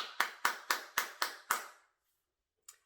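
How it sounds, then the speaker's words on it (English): A single person claps about six times in an even rhythm during a virtual awards celebration, close and dry, then stops, followed by a faint tap. "please join me in a virtual round of applause for all of today's"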